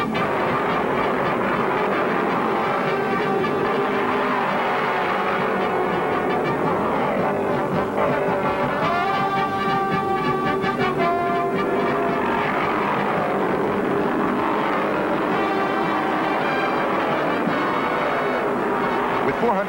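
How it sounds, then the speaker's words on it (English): Cale Yarborough's Chevy stock car roaring at full throttle toward the checkered flag in the 1973 Southeastern 500, a dense sustained engine howl with a rising and falling pass, heard alongside crowd and track noise for about twenty seconds. "Cale Yarborough continues to scream his Chevy toward the checkered flag."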